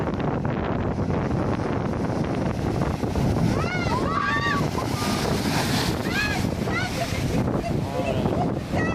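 Steady roar of massive ocean waves and wind, loud and unbroken, with some faint higher calls or voices rising briefly over the rushing water.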